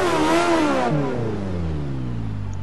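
A car engine in the Forza Motorsport 6 racing game revs hard, the pitch climbing then dropping as the throttle eases, leaving a steady idling rumble; loud and close, with no talk.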